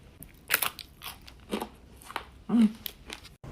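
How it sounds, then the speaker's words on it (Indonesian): Someone bites into a flaky, sugar-crusted pastry, giving several crisp crunches spread across a few seconds, close and fairly quiet, with no talk. "Bunyi crunchnya itu dari gulanya ini."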